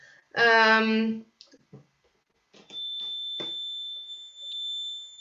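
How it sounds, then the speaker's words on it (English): Accordion playing in its very highest register during a chamber-music demonstration: a brief, rich, reedy chord, a pause with small clicks, then a long, piercing high note held steadily with a couple of slight breaks. "So you hear that it's almost the highest notes in accordion."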